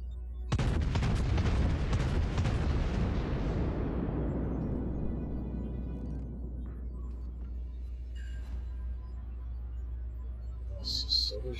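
Heavy battleship gun salvo in World of Warships aboard the Amagi: a sudden loud booming blast that rolls and decays slowly over several seconds, followed by faint game effects.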